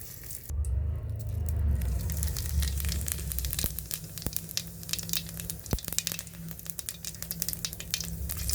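Bay leaves hit hot oil in a home kitchen pan, setting off a loud, steady sizzle and crackle with occasional sharp pops and clinks of a utensil.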